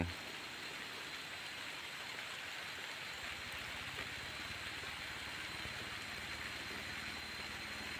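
Rain falls on rice fields during a storm, a soft, steady hiss of drops on wet ground and water, quiet and unbroken throughout.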